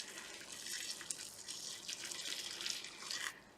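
Hot water pours from a pan in a steady, faint, hissing trickle lasting a few seconds. It runs alone and closes with a soft splash as the pour stops.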